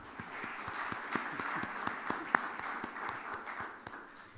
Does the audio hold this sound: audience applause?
yes